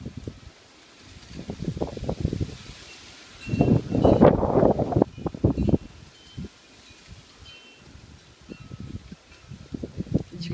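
Gusts of a Santa Ana wind storm buffet the microphone in surging bursts, strongest in the middle, with tree branches bending and rustling between quieter lulls.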